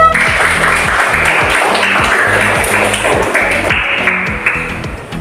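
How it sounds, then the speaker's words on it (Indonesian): A classroom audience applauds a student group after its presentation, a steady, dense patter of many hands clapping that holds for about five seconds and thins slightly toward the end. "kita berikan aplaus untuk kelompok biotik"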